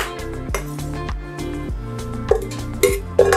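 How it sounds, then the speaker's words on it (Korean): A knife cuts through a block of MP soap base on a hard surface, producing a series of short thuds and knocks at an uneven pace, near and clear with no talk. "MP 비누 베이스 썰어 볼게요."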